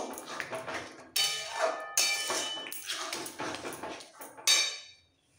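Pav bread for street-style pav bhaji gets turned in a buttered pan, with bright metallic clanks and scrapes of the utensil against the pan in several bursts before falling quiet.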